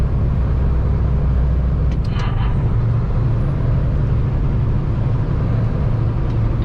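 A truck engine downshifts while climbing a hill with an empty flip-axle trailer, making a loud, continuous low drone that fills the cab, with a brief higher mechanical whine partway through and no talking.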